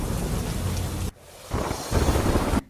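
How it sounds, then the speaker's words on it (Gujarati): Heavy downpour in Tharad roars as a loud, dense hiss of rain, broken by a sudden drop to near quiet before the pouring surges back even harder. "થરાદમાં ધોધમાર વરસાદની શરૂઆત થઈ છે"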